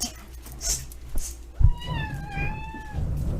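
A pet cat gives a clear, drawn-out meow in a home, rising then gently falling over about a second and a half, close to the microphone after a soft thump and some low background rumble.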